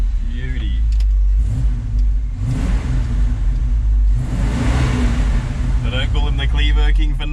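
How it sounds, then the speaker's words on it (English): A Ford F350 pickup with a 302 Cleveland V8, its idle just adjusted, drones steadily, then revs up in two loud surges before settling back. Someone talks briefly over it. "Definitely didn't rev like that when the guy drops it off."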